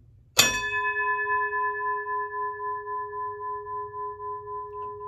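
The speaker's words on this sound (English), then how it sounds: "So Diane, the bell rings for you." A single bright office bell is struck once and rings out, its clear tone slowly fading with a gentle pulsing shimmer over several seconds.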